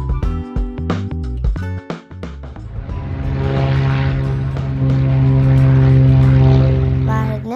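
A propeller airplane loaded with boxes of bottled water drones steadily and loudly, rising in level through the second half, with no one talking.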